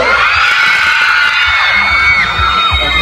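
A large crowd at an outdoor concert in Udon Thani cheers, whoops and shouts loudly and continuously, with high-pitched screams rising and falling throughout.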